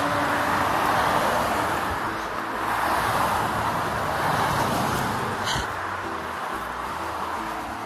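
A car rushing past fast on a road makes a broad, steady roar of tyre and engine noise that swells and lingers close by, with no talk over it.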